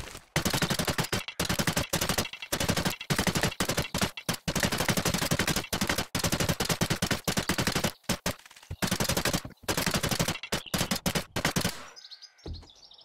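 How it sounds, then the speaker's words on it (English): Rapid-fire nail gun upgrading blocks while building a base in 7 Days to Die, loud dense bursts of mechanical shots in long runs with brief gaps, ending with a short chime-like game sound. "I'm going to throw myself a nail gun, and then let's go and upgrade all the blocks."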